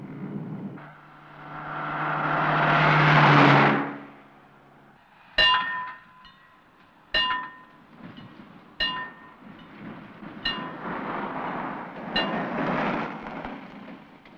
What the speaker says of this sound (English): Does that train always pass at 6:30? Yes, it's a scheduled train.